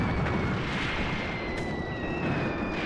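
Machine gun fire in the Graviteam Tactics: Mius Front war game, a dense, continuous clatter of bursts and distant booms rolling together into a loud, steady battlefield din, with faint whistling tones overhead and no voices.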